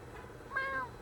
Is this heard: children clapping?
no